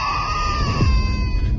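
Piercing, sustained screams from children ring out loudly as a dramatic sound effect in a narrated Hindi crime story, continuous and close with no pause.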